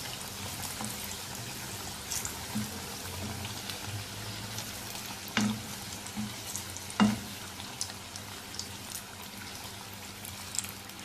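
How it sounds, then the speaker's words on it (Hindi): Samosas frying in oil, a steady close sizzle and bubbling with occasional sharper pops and clinks as they are turned. "ऐसे सारे समोसे फ्राई कर लेंगे।"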